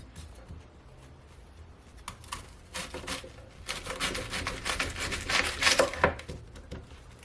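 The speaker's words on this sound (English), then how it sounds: "So now I'm gonna cut my cabbage." A knife cuts cabbage on a board, starting faint and building into a run of close crisp slicing and rasping strokes that grows louder, then fades near the end.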